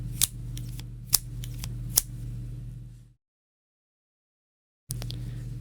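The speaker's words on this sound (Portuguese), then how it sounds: "Ainda eu preciso da tesoura." Scissors snipping during a church sermon: a few sharp, crisp cuts over a steady low hum, then a stretch of total silence before the hum returns with one more click.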